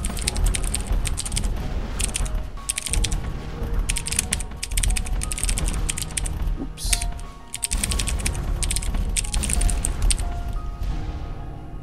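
Continuous typing on mechanical keyboards during a fast typing game, with dense rapid clacking key presses at close range and brief pauses, plus occasional sharper clicks.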